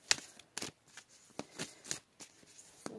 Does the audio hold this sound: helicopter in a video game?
no